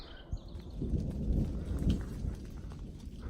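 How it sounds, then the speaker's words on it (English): Distant thunder rumbles low and broad through fog on a mountain trail between the NOC and Fontana Dam, a steady rolling roar with rain-like hiss and no voices. "I don't know if you can hear in the background the thunder"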